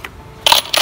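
Spent brass 6.5 Creedmoor cartridge cases clink together in two quick bright bursts, close and loud, after a brief quiet moment.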